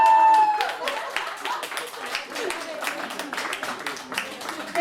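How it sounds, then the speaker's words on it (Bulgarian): An audience at a weight-loss event claps for a man who has stood up, a moderate patter of hands with scattered individual claps and voices talking over it. "Стани, аплодисменти за Драго."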